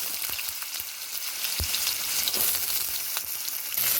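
Potatoes fry in hot oil seasoned with whole spices, dried red chillies, bay leaf, cardamom and cinnamon, giving a steady broadband sizzle with a few soft stirring knocks throughout.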